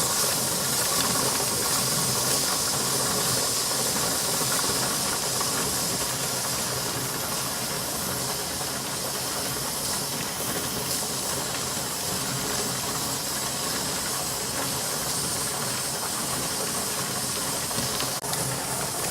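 A pressure canner processing vegetable stock releases a continuous, even steam hiss that holds steady at moderate loudness for the whole stretch, with no talking.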